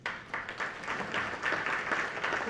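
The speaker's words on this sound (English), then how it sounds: "How about a big round of applause?" Audience applause at a board of education meeting, a steady mid-level patter of clapping from a room full of people that swells slightly and holds for a few seconds.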